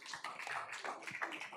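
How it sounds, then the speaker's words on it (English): Audience applause at a school board regular meeting, a faint, dense patter of many hands clapping steadily throughout with no talk over it. "one more round of applause for John"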